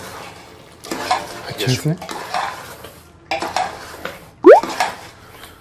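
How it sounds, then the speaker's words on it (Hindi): A metal spoon scrapes and clanks around a pressure cooker as mutton curry with ground tomato is mixed, in irregular close bursts with a brief spoken phrase. "अब इसे हम सबको मिक्स कर देते हैं"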